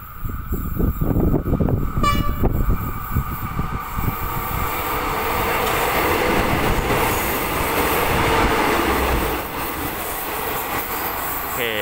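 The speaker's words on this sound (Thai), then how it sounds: "ผ่านสถานีสวนปฏิภาณไปแล้วนะก็จะไปจอดที่สถานีหัวหินเป็นสถานีต่อไปนะครับ" Train number 40 passes Suan Son Pradiphat station close by with a loud, rolling rumble of wheels and carriages. A horn-like tone and a brief squeal come early, then the roar evens out before fading slightly near the end.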